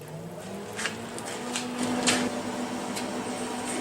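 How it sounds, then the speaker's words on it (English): Drive rollers on a MIG welder's wire feeder pull flux core wire through a 15-foot gun, giving a low, steady motor whine with a few faint clicks, close and fairly quiet. "Now I'll set the tension on these drive rollers, fire up the machine, we'll pull it through and install the tip."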